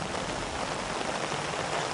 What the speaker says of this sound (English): Raining time.